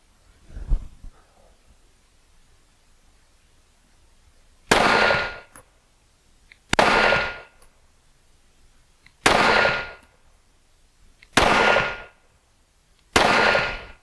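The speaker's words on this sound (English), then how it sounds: "5 more rounds. Load it up. And shoot a group." Five gunshots fired at a target while testing an enclosed optic ring out as sharp, loud cracks spaced about two seconds apart, each with a brief echoing tail, preceded by a faint handling thump.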